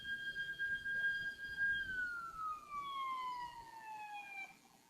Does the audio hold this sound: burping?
no